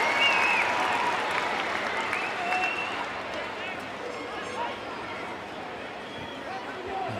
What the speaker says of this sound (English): That's what you could hear the big roar from the crowd was